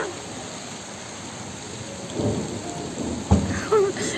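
Steady rain on a house, with low, distant thunder rumbling through it. A few faint sounds rise briefly near the end, and no voices are heard.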